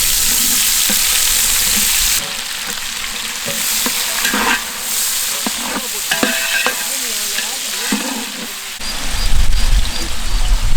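Onions fry and sizzle loudly in hot oil in a pan for duck biryani, a dense continuous hiss broken by scraping stirs and clinks from a spoon, close to the ear.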